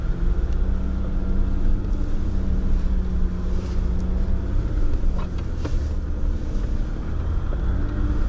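An EcoDiesel engine runs just above idle at about 1,000–1,500 RPM, a steady loud low rumble with wind noise and no pauses.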